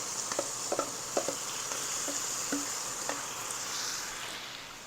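Pimento seasoning dry-fries in a pan for curry goat with a steady bright sizzle, punctuated by soft clicks and scrapes of stirring, fairly quiet and close, without talking.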